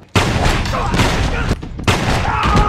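Gunfire in a film action scene where men are shot down, loud dense bursts of rapid shots with a brief gap between two volleys.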